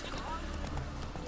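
Roach, the horse in The Witcher 3 video game, gallops in rapid rhythmic hoof clops beneath a continuous game soundscape.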